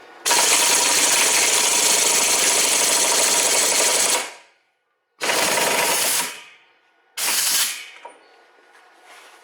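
A pneumatic impact wrench drives a 32 mm impact socket on a front wheel hub nut of a 2002 Honda Civic, firing in a loud sustained buzzing rattle for about four seconds, then two shorter bursts after pauses.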